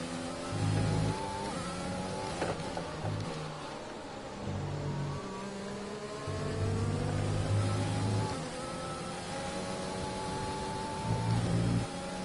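An F1 2020 race car in a video game drives on a wet track, its engine revving and whining in long rising and falling sweeps as it accelerates and shifts, fairly loud and steady with no talking.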